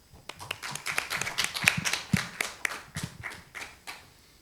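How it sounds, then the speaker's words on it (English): Scattered clapping welcomes a dean to the stage at a new student convocation, a handful of separate, uneven hand claps, soft and somewhat distant, tapering off after a few seconds. "Please welcome Dean Matz with a big round of applause"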